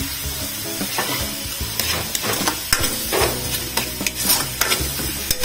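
Onion and ginger sautéing over low heat for arroz caldo, with frequent spatula stirring and scraping against the pan over a soft, steady sizzle.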